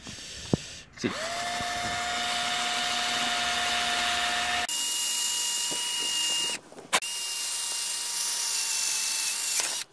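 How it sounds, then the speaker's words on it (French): An electric drill bores a hole through metal on a Peugeot 307 HDi headlight repair, its steady whine running near and loud in two long bursts separated by brief pauses. "Du coup, c'est parti, je perce."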